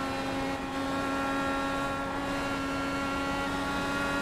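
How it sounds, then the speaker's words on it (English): A racing car engine at full throttle, flat out near 300 km/h through the kink toward Canada Corner at Road America, gives a loud, steady, unbroken drone that stays close and alone for the whole stretch. "Let's have a listen to that engine note"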